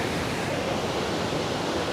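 A steady, dense roar of a tall waterfall, water dropping roughly 300 feet at Athirappilly Falls, heard as unbroken close rushing noise with no voices.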